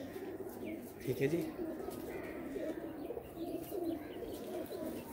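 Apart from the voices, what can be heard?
pigeons cooing on rooftop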